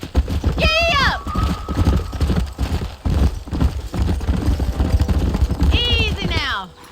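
Horse in the Red Dead Redemption game, a neigh and snort at the start, steady hoof clip-clop under loud background sound, then another whinny near the end.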